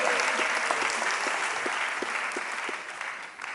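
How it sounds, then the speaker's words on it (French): A parliamentary audience applauds the moderator: a brief burst of clapping from a crowd, close and full at first, then slowly thinning and fading toward the end. "On peut l'applaudir aussi."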